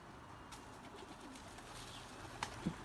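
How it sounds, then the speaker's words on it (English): Doves in a garden give a single soft, low coo near the end, faint against a quiet background hiss with a light chirp just before it. "all these doves have turned up in my garden"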